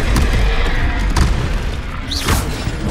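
Blasting-spell explosions in the wizarding game Hogwarts Legacy: deep booming impacts and thumps in a busy fight, with a rising whoosh near the end and a dense, loud background throughout.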